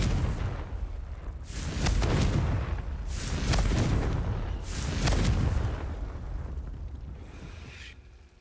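A Confringo blasting-curse explosion from the video game Hogwarts Legacy: three heavy, rumbling booms arrive about a second and a half apart, each swelling and then fading into a rolling tail, with no talking.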